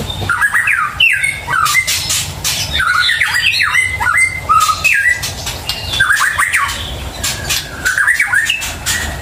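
Caged songbirds kept without dividers or cage covers squawk loudly and repeatedly, their harsh, overlapping calls filling the space up close with no talking.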